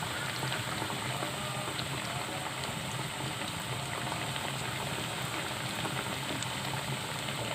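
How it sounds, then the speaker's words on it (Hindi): Chicken nuggets frying in hot oil give a dense, even crackling hiss like boiling, close and constant from start to finish, with no voices. "और अब मैं फ्राई कर रही हूँ चिकन नगेट्स।"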